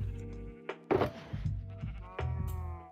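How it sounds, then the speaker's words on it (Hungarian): A cow in Minecraft moos in several drawn-out, low calls, each one separate and close, with small thumps between them. "Bebúgott a tehén."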